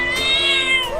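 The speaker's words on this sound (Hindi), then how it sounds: "देख वहाँ बिल्ली रोड पर है।" A cat gives one drawn-out, tonal meow, loud and close, that rises and then bends downward over about a second with no other sounds around it.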